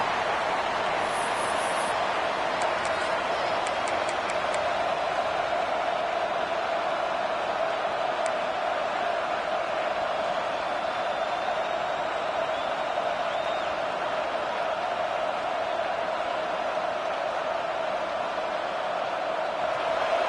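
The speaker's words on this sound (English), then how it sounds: "The roar of the crowd trying to fuel this defense to keep them pinned in their own end" A football stadium crowd roaring, a sustained broad wash of noise that holds steady and loud across the whole stretch, with faint whistle-like tones near the start.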